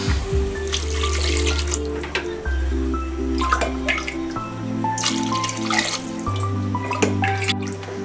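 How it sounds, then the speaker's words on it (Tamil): Water is poured from a tumbler into a cooking pot of sautéed onions for Arabian kabsa rice, a steady splashing pour that changes pitch as the pot fills, repeated several times in close succession. "இப்போ தண்ணி ஊற்றிக்கலாங்க."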